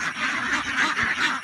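Ducks on a duck farm quacking in a steady repeated rhythm, several close nasal quacks overlapping one another at moderate loudness with no talk over them.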